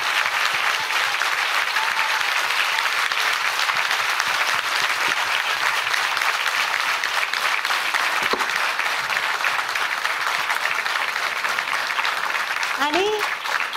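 An audience at a women's gathering applauds with sustained, dense clapping from a large crowd, steady and loud throughout with a brief voice near the end.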